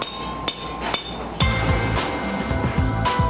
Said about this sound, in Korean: 당금질 전과는 달리 망치로 쳐도 안 깨질 만큼 단단해진다.